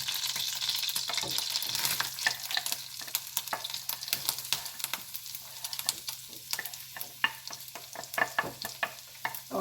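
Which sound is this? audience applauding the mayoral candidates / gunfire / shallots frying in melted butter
shallots frying in melted butter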